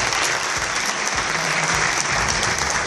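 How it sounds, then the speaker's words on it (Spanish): Loud, continuous applause from an audience at an award presentation, dense clapping sustained without a break throughout. "El aplauso fuerte."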